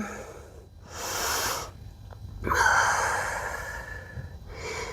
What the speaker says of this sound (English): Breathing, cool, calm and collected.